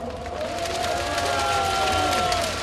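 A crowd applauds and cheers at a political rally, a steady wash of clapping heard at moderate volume from a distance, with a faint tonal hum running beneath it.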